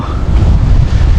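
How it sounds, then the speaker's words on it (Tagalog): Sea waves wash along the shore of Isla Puro, a loud, steady rush heavily mixed with wind buffeting the microphone. "Dagat."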